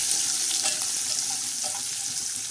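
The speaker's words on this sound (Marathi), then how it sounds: "आता छान असा तडका हा टमाटे आणि कांदा टाकलेला आहे." Tomato and onion tempering in hot oil, a loud, steady hiss of sizzling that fills the space, heard up close and unbroken, with faint clicks of the pan and no one speaking.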